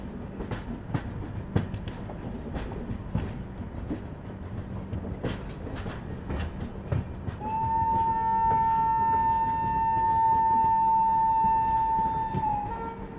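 The Indore Daund Express (22944) slows toward Godhra Junction, heard from inside a 2 AC coach: a low rumble with rhythmic wheel clicks, later joined by a sustained high, steady tone that holds for several seconds.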